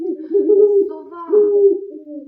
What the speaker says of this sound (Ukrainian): Сова.